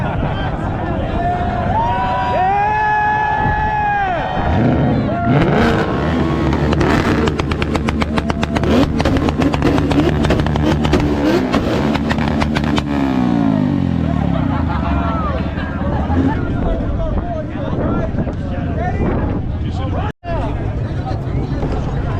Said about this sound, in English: we're having a rev competition